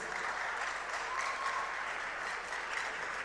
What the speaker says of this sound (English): all the students in the house, a big round of applause to yourselves